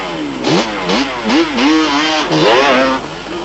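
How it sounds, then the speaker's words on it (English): Yamaha motorcycles tear away from the start of a 1996 off-road race, their engines revving hard in several rising and falling surges, loud and close, with no voices. "Aggressive getaways by Paul and Peter on their Brasco refrigeration Yamahas"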